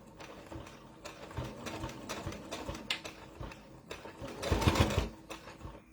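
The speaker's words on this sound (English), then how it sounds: "I'm going to baste it not quite a 1/4 inch in, because I don't want my stitches to show" A sewing machine basting fabric pieces together a little under a quarter inch from the edge, running in uneven bursts of rapid mechanical stitching with brief pauses, loudest near the end, close by.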